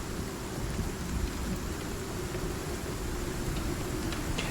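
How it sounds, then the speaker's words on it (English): A rainstorm sets down a steady, dense wash of falling rain across the whole stretch, loud and unbroken, with a faint rumble in the low end and no voices. "we're in the middle of a rainstorm too"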